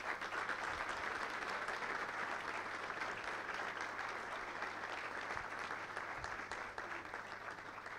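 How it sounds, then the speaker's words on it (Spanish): A crowd applauds during a political speech, a sustained wash of many hands clapping at steady volume for the full length, tapering only slightly near the end, with no voices on top. "está mi amigo Gustavo Menéndez, pide un aplauso"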